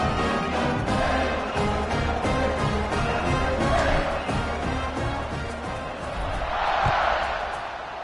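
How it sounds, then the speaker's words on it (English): A football stadium crowd at a Michigan versus New Mexico game cheers at kickoff, a broad distant roar that swells and fades, steady throughout. "They're set to kick it off, and this crowd now ready to get behind them."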